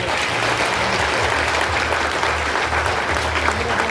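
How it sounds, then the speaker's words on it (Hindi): Loud, sustained applause from a large crowd at an ex-servicemen rally in a stadium in Lucknow, a steady dense clapping that fills the whole stretch with no pause. "एक बार फिर से जोरदार तालियां"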